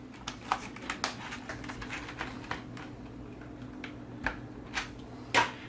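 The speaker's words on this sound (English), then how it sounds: "You can now re-screw in all of the screws that go to the back." Screws are driven back into the plastic case of a Logitech MK320 keyboard, giving faint scattered clicks and small ticking taps over a low steady hum, close and quiet.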